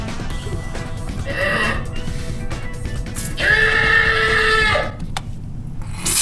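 Goat-like bleating from a short online clip, two drawn-out wavering cries, the second louder and longer, close and clear over a background hum.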